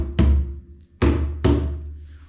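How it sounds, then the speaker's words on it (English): An African drum struck three times with a flat hand in the center, each hit a deep, booming resonant thump that rings and decays, the last two strikes coming closer together. "I'm gonna play my hand flat in the center of the drum."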